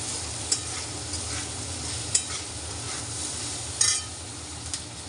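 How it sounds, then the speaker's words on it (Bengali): Potatoes fry in a pan in a home kitchen, giving a steady sizzle for about five seconds with a few sharp clinks and scrapes as a utensil stirs them. "আলুটা ভাজছি"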